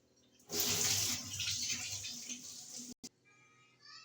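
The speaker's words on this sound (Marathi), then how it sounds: "इथे मी दोन ते तीन पाण्याने तांदूळ धुवून घेतलेले आहे" Rice washed in water for khichdi, a loud splashing, swishing wash through most of the clip, broken by a brief gap near the end and followed by quieter running water.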